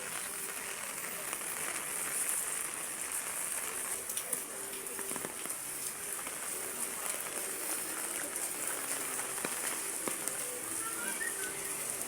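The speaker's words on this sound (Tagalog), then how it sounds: "malakas yung ulan" Steady heavy rain hisses continuously near a river, a dense high wash with scattered patters and drips, fairly distant and even in level.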